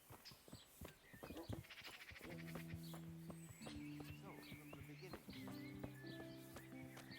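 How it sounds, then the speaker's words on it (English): A horse summoned in the video game Kingdom Come: Deliverance, with close hoof clip-clops and a neigh, then steady sustained tonal music playing over it. "Let's call our horse."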